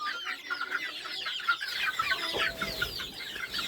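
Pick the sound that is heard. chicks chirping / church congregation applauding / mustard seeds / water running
chicks chirping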